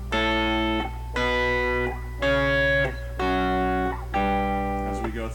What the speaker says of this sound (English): You'll hear me playing the high note while you play the low note.